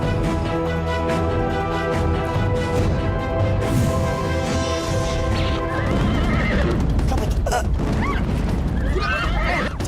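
A horse gives loud whinnies and neighs close up, then its hooves clatter in a rapid gallop as it runs off, with booming thuds and a dramatic score layered underneath throughout.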